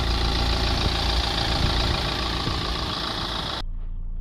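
A Mercedes C-Class C200 with a 1.6 Renault engine and a suspected DPF fault idles steadily up close, a continuous low rumbling hum with a faint rhythmic knock, which cuts out abruptly near the end, leaving only a dull low murmur.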